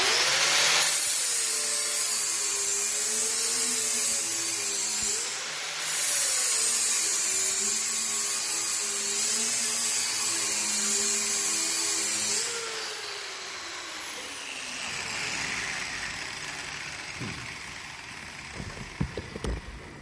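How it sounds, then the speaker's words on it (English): A hand angle grinder with a flap disc grinds metal, a loud steady whine with a wavering rasp as pressure changes, then the motor winds down and coasts to a stop with a few small clinks at the end. "So I'm going to go ahead and grind."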